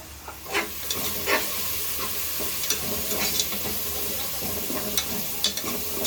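A country chicken curry with a spoonful of garam masala frying in a pan, heard up close as a loud, constant sizzle with bursts of crackle and stirring scrapes throughout, with no talking.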